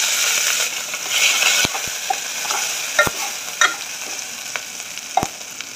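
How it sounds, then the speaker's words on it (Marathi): Mustard seeds, chilli, garlic and cumin sizzle loudly in hot oil in a pot, a continuous close crackle broken by a few sharp clinks of stirring. "टोप गरम झालेला आहे, तेल टाकून घेते। थोडी राई टाकून घेऊया।"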